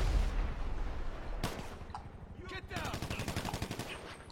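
Gunfire in GTA 5 Online, rapid machine-gun bursts and single shots crackling loudly and continuously, with a heavier blast midway and a dense stream of fire toward the end.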